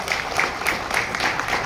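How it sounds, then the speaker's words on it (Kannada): An audience at a municipal workers' strike meeting in Karnataka claps in a short, moderately loud burst of applause with a dense, even patter. "ನಿಮ್ಮ ಜೋರು ಚಪ್ಪಾಳೆ"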